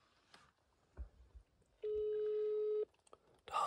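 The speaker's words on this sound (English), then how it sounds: "The hunter is not answering the phone." A phone call to a hunter goes unanswered: a single steady ringback tone sounds for about a second amid faint background noise, with a few brief clicks and a burst of tones at the end.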